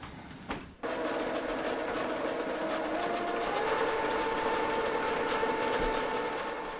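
A sewing machine stitches vest fabric close up, running in a steady, rapid, rhythmic whir with fine ticking after a brief pause at the start.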